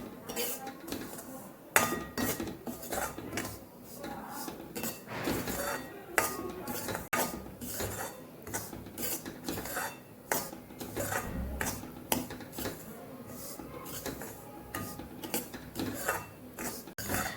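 Semolina roasting in ghee in a pan for sweet ghughra, with a spoon repeatedly scraping and clinking against the metal in an uneven stirring rhythm that lasts throughout at a moderate level.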